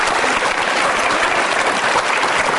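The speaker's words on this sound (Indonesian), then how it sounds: "Kita beri tepuk tangan juga untuk audiens." Studio audience at an Indonesian insurance forum broadcast applauding steadily, a dense, loud wash of clapping lasting throughout with no voices over it.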